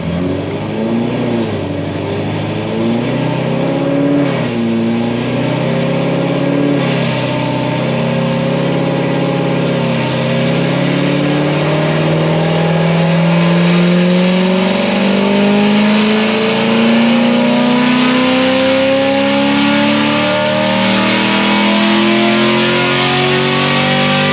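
A C7 Corvette with an LT1 engine fitted with aftermarket heads and cam revs loudly and close, its pitch climbing and falling in long sweeps over a rough, continuous exhaust burble.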